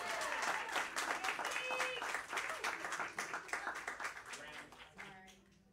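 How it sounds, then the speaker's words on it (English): A crowd applauds with dense clapping that gradually thins and fades out toward the end. "Huge round of applause for PEEKS, by the way."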